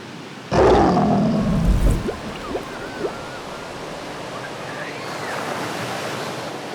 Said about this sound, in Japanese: 打ち寄せる波が静かに砂浜を撫でています。